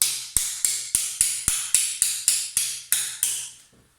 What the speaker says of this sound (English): I'll probably need to hammer that, but line them up and just drive it through.